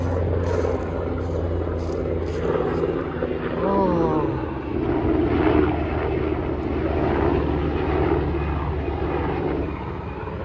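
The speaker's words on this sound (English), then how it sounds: "Ever really heard a helicopter?" A loud helicopter drones steadily overhead at a campsite in Santos State Park, Florida, a broad whirring roar that stays near throughout, with a brief voice and some talk beneath it.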